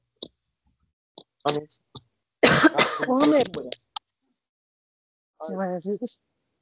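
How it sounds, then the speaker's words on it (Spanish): A woman coughing and clearing her throat indoors, a burst of several coughs in the middle, with short spoken bits and clicks around them, set against near silence. "Me permiten que voy a toser."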